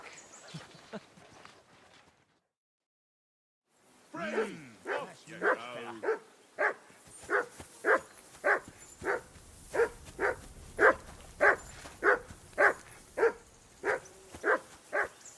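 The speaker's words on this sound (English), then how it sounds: "I assume you can hear that damn dog of yours barking." A dog barks steadily and repeatedly at a camp on a riverbank in the medieval video game Kingdom Come: Deliverance II, the barks evenly spaced and fairly close, following a brief stretch of speech and a short silence.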